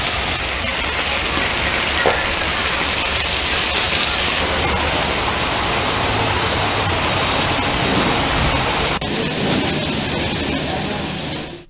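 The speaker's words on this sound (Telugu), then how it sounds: "ఉరుములు, మెరుపులతో కూడిన భారీ వర్షం పడుతోంది" Heavy rain pours down in Hyderabad during a thunderstorm, a loud, dense and unbroken hiss of downpour that stays steady throughout.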